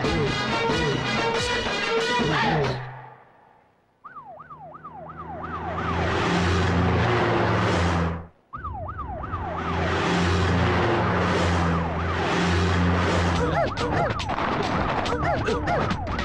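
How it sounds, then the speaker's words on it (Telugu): A vehicle siren wails in a movie scene, loud and close, its rising and falling tone cycling repeatedly through two long stretches. Music and engine sound are mixed beneath it. "ఏంటి ఆ సౌండ్? సైరన్ సౌండ్ అండి."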